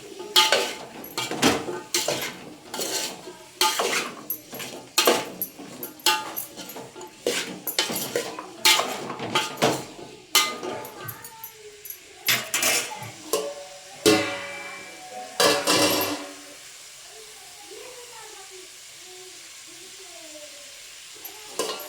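A spoon stirs radish chutney ingredients in a pan: rapid metallic scrapes and clinks repeat near the mic over a soft sizzle, then fade to quieter frying at the end.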